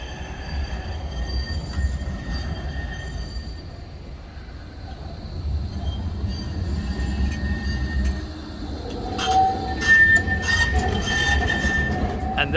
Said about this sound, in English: One of those two trams now leaving this North Tram Station, Blackpool North Tram Station.